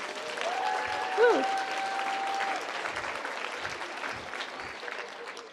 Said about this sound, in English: let's give a round of applause for the people that are really stuck it out.